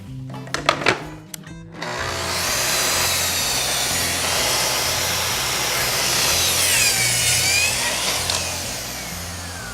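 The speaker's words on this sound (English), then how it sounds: "I've got my track saw set up. I'm going to make this cut." A track saw cuts through plywood while a Murphy bed mattress box is being built, starting with a few sharp knocks, then a loud, steady whining cut that runs for several seconds.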